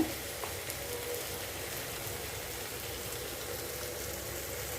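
Ingredients for a one-pot lotus seed (makhana) rice sauté in a pan, giving a soft, even, rain-like sizzle that stays faint and steady throughout, with no voices.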